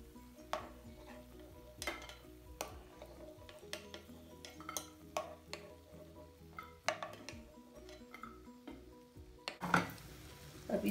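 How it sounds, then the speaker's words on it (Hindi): Cashews frying in hot ghee in a kadai over medium heat, soft sizzling under repeated clinks and scrapes of a spoon stirring against the metal pan. "इसमें हम लोग पहले ये थोड़े काजू तल लेते हैं मिडिल आंच में ही"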